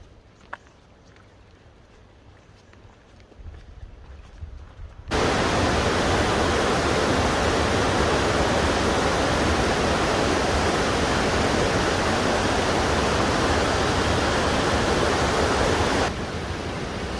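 Lodore Falls in heavy spate, a loud broadband roar of rushing water that swells up suddenly after a few seconds of quieter ambience and then holds steady and continuous, close by and alone without talk.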